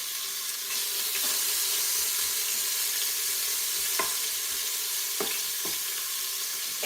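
Two cut-up bacon strips fry in hot oil in a pot, giving a steady, continuous sizzle with a few sharp crackles and pops along the way and no talking.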